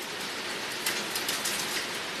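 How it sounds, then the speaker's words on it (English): Heavy rain falls outside as a dense, steady hiss, with a few louder spattering bursts midway and no voices. "Wow, outside is raining. It's heavy raining outside."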